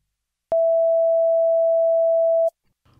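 A steady 660 Hz pure sine test tone, played as a frequency demonstration, sounds alone at constant loudness for about two seconds before cutting off sharply into near silence.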